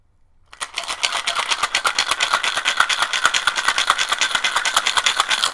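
A cocktail shaker is shaken hard and fast, a loud, steady rattling of ice in rapid regular strokes that runs for about five seconds before stopping, with no talking over it.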